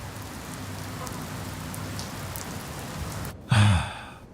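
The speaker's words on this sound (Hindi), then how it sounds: "बारिश बहुत तेज हो रही है" Steady rain hisses for several seconds, then a brief, loud breathy exhalation cuts in near the end before the rain carries on.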